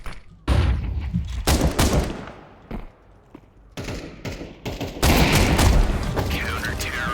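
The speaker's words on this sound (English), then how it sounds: "Throwing flashbang." Flashbang grenade bursting in a tactical shooter match: several loud, sharp blasts and booms with gunfire-like cracks in quick bursts, up close and dominating.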